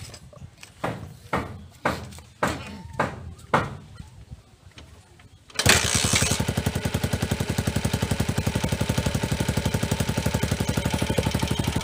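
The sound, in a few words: Honda TMX motorcycle engine kick-started and running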